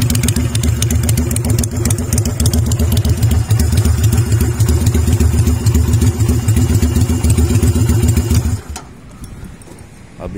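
A Kaisar Ruby 250 custom bobber motorcycle idles close by with a steady, throbbing low rumble that carries on without pause, then drops away sharply near the end, leaving only quiet background.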